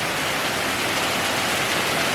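Steady rain falling over a vegetable garden of long beans and cucumbers, a dense, even hiss filling the whole clip with no breaks and no voices.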